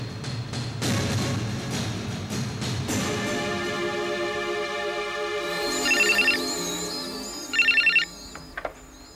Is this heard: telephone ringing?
yes